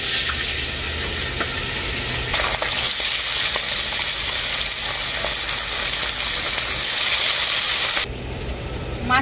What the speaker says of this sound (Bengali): এখন আমি মাছগুলো তেলের মধ্যে দিয়ে দেবো।